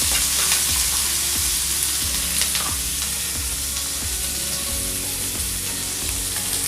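Sliced onions frying in oil for an okra curry: a loud, dense, continuous sizzle that stays even throughout, close up, with faint stirring scrapes underneath and no speech.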